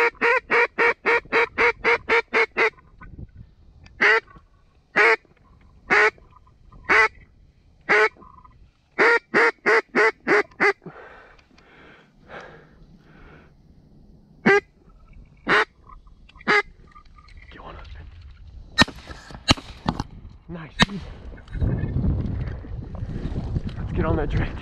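Mallard and pintail ducks quack in repeated rapid bursts across an open marsh on a northwest wind, loud and close, with gaps between calls and some wind and quiet talk underneath.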